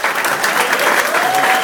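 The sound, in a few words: applause for the magician's helpers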